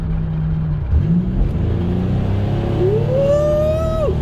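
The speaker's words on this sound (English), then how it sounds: "Oh man, this engine just sounds perfect though." A Buick Grand National engine with aftermarket mufflers, running rich on 10 PSI of boost, idles with a low, steady hum, then revs up in a smooth rising whine that holds near the top before dropping back.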